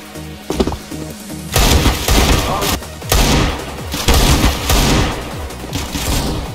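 Video game gunfire in a stealth shooter: loud, dense bursts of rapid shots and thumps that start after a quieter opening, then continue in heavy volleys with brief gaps.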